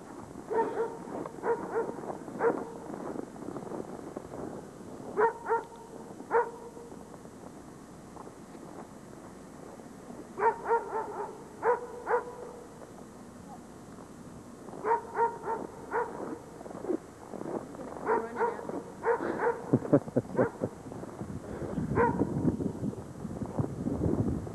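A dog barks in short clustered bursts of two or three yips, repeated several times at moderate distance, with wind buffeting the microphone between barks.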